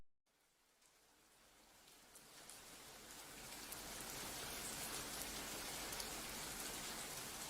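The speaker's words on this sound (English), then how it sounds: "Listen to the rain" Steady rain from a storm falls on surfaces around a home, a soft dense patter that swells gradually from quiet to a full, even hiss with no voices.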